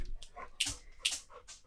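Short high-pitched whines and yips from an indoor dog, several brief bursts in under two seconds, close and moderately loud with no talk over them.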